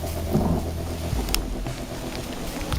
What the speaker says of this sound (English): Hear the lightning there, I mean the thunder.